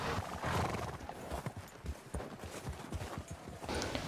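Horse hooves clip-clopping on a trail ride in Red Dead Redemption 2, a close, steady walking rhythm of thuds under a dense outdoor background, with a whinny near the start.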